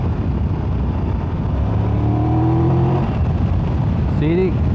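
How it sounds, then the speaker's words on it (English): A 2023 Triumph Tiger 1200 Rally Pro motorcycle engine roars steadily under heavy wind noise, its pitch rising as it revs toward 5,000 rpm, with a voice briefly audible near the end. "this thing pulls and pulls and pulls"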